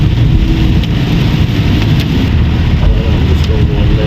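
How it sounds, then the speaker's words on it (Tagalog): Heavy rain pours down steadily on city streets in Puerto Princesa in a dense, loud hiss, with no break across the whole stretch. "yung volume ng pagbagsak ng ulan talagang malakas"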